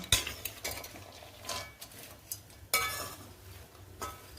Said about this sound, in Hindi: बस इसको आप ऐसे ही चलाते रहें हल्की आंच पे, क्योंकि कढ़ाई भारी है और गरम है